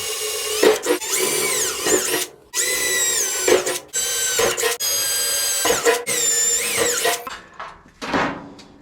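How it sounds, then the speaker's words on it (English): A power drill bores holes in sub-frame and cowl bracing for a 1927 Model T, close and loud, running in a series of whining bursts with short pauses between holes. "Okay, now we're just going to drill those so we have them."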